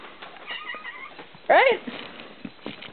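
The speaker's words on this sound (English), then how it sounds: "I have kittens." A kitten lets out a short, loud meow close by while playing indoors, set against soft background chatter and small movements.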